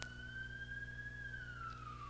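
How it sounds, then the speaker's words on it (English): A fire truck siren wails past in the distance, one long rising-then-falling tone sweeping down as it moves away, faint against room hum. "we'll just send our love as that siren. It was a fire truck, it looked like."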